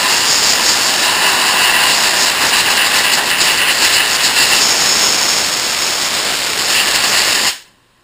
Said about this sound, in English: I'll take some compressed air and kind of blow through it, like this.